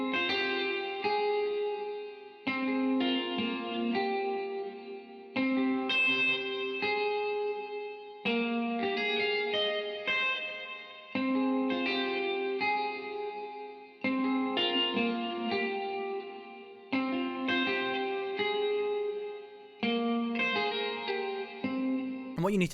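A gritty, distorted electric guitar plays a repeating melodic line in phrases, loud and up front with some echo and reverb, no talking.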